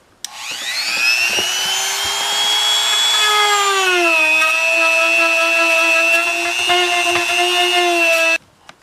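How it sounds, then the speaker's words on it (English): A drill press boring holes in a box, its motor spinning up into a loud steady whine, the pitch dropping as the bit bites in, then running evenly before cutting off abruptly. "take it over to the drill press and drill those holes"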